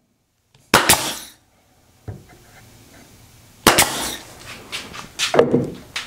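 Pneumatic nail remover punching cut nails out through the back of wood: several sharp, loud impact bursts with ringing decay, separated by short pauses, with a brief spoken word between them.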